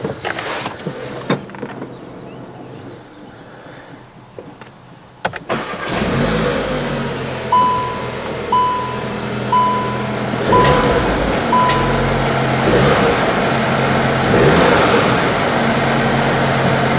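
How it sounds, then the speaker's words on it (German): Cupra Formentor with the EA888 Evo 4 310 PS engine, after a spark plug change, cranks and fires after a quiet pause, then settles into a loud idle with several short revs and chimes sounding nearby. "dann schmeißen wir mal die Karre an"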